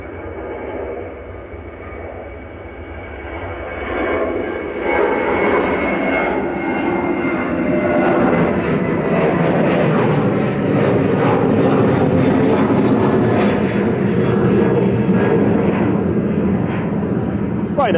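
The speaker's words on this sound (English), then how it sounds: "Ryanair 2089 heading off to Cork in Southern Ireland then on an HQ UK, a 737-800." A Ryanair Boeing 737-800 departs Manchester Airport, its jet engines building into a loud, sustained roar that holds steady for many seconds, heard from outdoors near the airfield.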